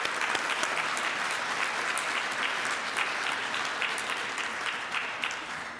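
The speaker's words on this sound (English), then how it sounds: "Let's give them all a round of applause again" Audience at a Rotary club meeting claps steadily in a dense, even round of applause that holds for about six seconds and tapers slightly at the end.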